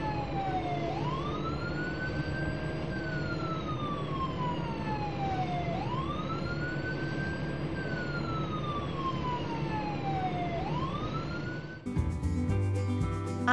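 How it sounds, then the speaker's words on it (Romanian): An ambulance siren wails in slow rising and falling cycles, loud and steady, before a short burst of music at the end. "Ambulanță!"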